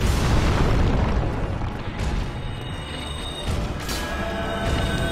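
The Iron Golem's axe attack in Dark Souls lands in heavy booming crashes, a loud continuous rumble of impacts with sharp bursts near two and four seconds.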